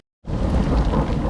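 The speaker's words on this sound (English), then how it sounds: "Now we're in the middle of a severe thunderstorm. It's hailing. It's raining." A severe thunderstorm with heavy rain and hail in a Texas slot canyon starts abruptly after a brief silence and becomes a loud, dense, steady roar.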